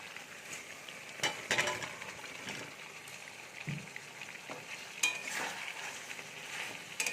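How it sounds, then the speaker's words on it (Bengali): Fried potatoes are stirred in a pan for dudh aloo dum, giving steady low sizzling broken by several louder scraping and clattering strokes of the spoon against the pan, with no talking. "আরও 2 থেকে 3 মিনিট খুব ভালো করে নাড়াচাড়া করে নেব।"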